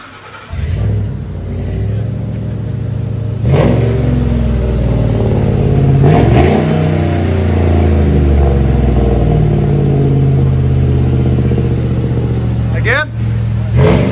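Ford F-150 pickup with a 5.4L Triton V8 and a Flowmaster 40 series muffler on a Y pipe, twin 2 1/4 inch turned-down tailpipes and no tips, revs loudly in repeated throaty bursts over a rumbling idle.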